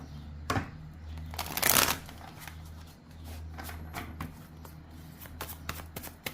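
Tarot cards are shuffled up close, a dense riffling flutter with a louder burst early on, followed by lighter repeated taps and slides of the deck.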